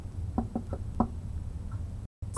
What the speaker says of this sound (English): surely it was too polite a knock for it to be a troll